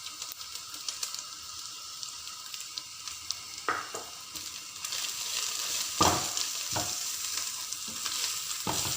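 Spices with onion, salt, turmeric, Kashmiri chilli powder, cumin and coriander powder stirred and frying in a pan for mutton paya, with a steady sizzle, scraping stir strokes and a few sharper clanks of the spoon against the pan.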